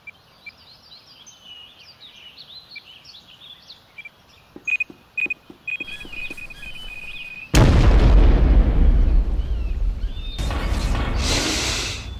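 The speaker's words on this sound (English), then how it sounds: "Watch out! Grenade!" A grenade explosion in the video game Call of Juarez: The Cartel, a sudden heavy boom that follows birdsong and scattered popping shots, then a second loud burst, both close and rumbling.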